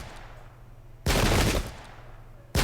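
Spanish tercios fire muskets in the Pike and Shot video game during the 1568 Battle of Heiligerlee: a loud, sustained crackling volley lasting about half a second, then quiet, then another volley starting abruptly at the end.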